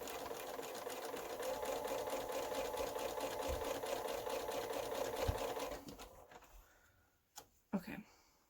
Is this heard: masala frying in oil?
no